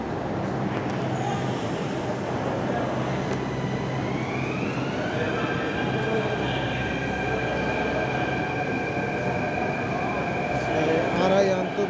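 A metro train moves at Jama Masjid metro station with a loud, steady rumble. A rising electric motor whine settles into sustained tones, and faint voices sit in the background.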